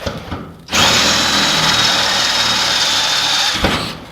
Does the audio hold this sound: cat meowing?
no